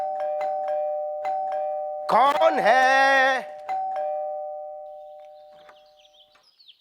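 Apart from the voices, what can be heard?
doorbell ringing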